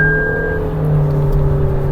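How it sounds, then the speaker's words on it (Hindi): The engine of a 2025 Toyota Innova Hycross drones steadily while the car accelerates, a close, loud and even hum heard alone with no voices. "इंजन मतलब जो घू घू वाली चीज है ना, वो तो जरूर करती है ये कि भाई जैसी गियर अप होगा।"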